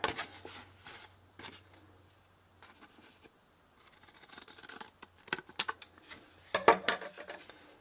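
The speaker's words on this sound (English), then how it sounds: "looks like I need to clean my scissors again too" Scissors snipping side tabs off a paper hexagon window box piece, a few quiet, crisp cuts in short bursts with pauses between.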